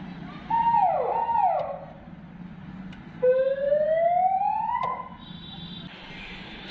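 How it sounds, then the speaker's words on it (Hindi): A vehicle siren fitted on a Mahindra XUV700 sounds two rising electronic wails in turn, the first wavering and the second a long upward sweep, loud and close over low background noise. "इस पर अगर हम ऊपर करेंगे तो एक दो तरह की इसके अंदर आवाज़ मिल जाएगी आपको सायरन में"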